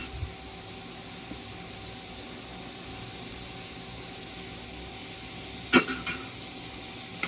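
Loitta fish mash with coriander leaves stirred in a pan, a soft steady sizzle that runs quietly for several seconds before a single clattering scrape of the spoon near the end.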